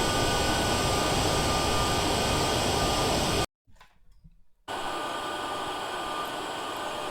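Steady, loud aircraft engine roar fills the cabin as the plane comes around to land on a runway at Edwards Air Force Base, broken by a sudden gap of about a second before the drone resumes slightly quieter.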